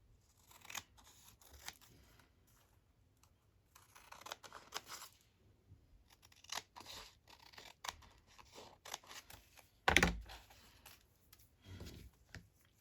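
Scissors cut paper while a Midori-style traveler's journal is assembled, with soft snips and rustles across a quiet room and one sharper, louder crunch near the end.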